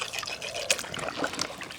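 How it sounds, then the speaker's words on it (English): Aquarium air pump bubbling in a container of water for worm tea, a steady soft trickling and fizzing close by with small pops throughout, no voices. "I put my pump in to let my pump start bubbling in the water"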